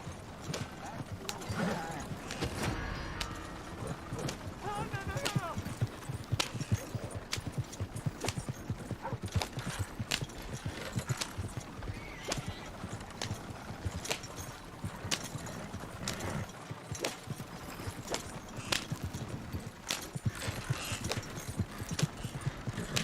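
Horse hooves clip-clop steadily in Red Dead Redemption 2, a continuous fairly quiet trotting rhythm with a brief whinny in places, and voices speaking intermittently over the hoofbeats.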